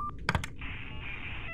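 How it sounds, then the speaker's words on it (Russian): An in-game telephone rings in the horror adventure game Yuppie Psycho, a steady electronic trilling tone held for over a second after a few short clicks, close and alone with no talking. "Телефон."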